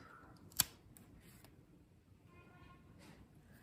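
A single sharp snip of scissors cutting a hoya plant stem during pruning, close and crisp, followed by quiet handling noises.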